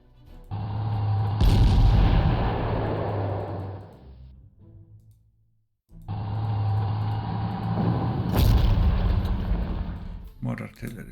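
Heavy artillery fire in the WWII strategy game Panzer Corps, Afrika Korps campaign: two long loud booming salvos with rumbling tails and a short pause between them.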